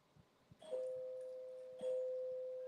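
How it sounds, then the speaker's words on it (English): A two-tone doorbell chimes twice indoors, each ding-dong ringing out and lingering, faint against a quiet room with a few soft knocks before. "It's gonna ring my doorbell"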